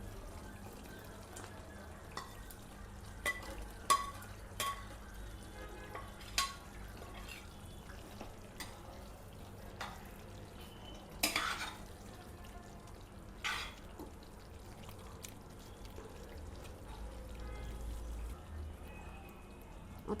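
Fried bombil fish and potatoes are stirred into a masala in a pan, with faint scattered spoon clinks and scrapes over a soft, low sizzle.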